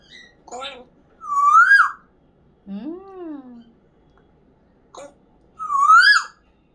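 An African grey parrot imitating the rising whistled call of a koel, giving several loud, clear swooping whistles separated by short pauses.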